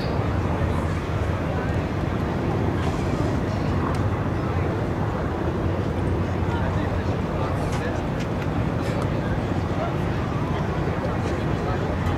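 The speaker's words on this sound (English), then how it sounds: "Let's continue to listen to the sound of these round engines as they come by" A rumbling, throbbing radial piston engine drone from warbird aircraft flying by at an airshow fills the whole stretch, loud and steady, with faint crowd noise underneath.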